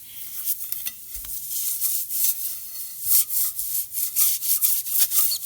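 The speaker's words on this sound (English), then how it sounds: "But the first thing to do is to clean it using alcohol" Broken ceramic pottery wiped down with 91% alcohol before repair, giving repeated close rubbing and scrubbing strokes in an uneven rhythm, moderately loud with no voices.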